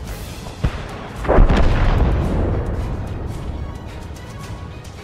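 Tank gun firing in the SU-5 tank video game: a small thump, then one loud, heavy blast with a long rumbling decay, nearby and alone with no talk.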